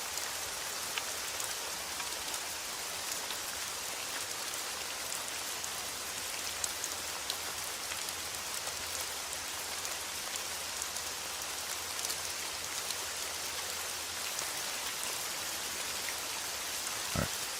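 Steady, even rain patters on a surface for the whole stretch, a dense broadband hiss with a faint low hum underneath and no voices.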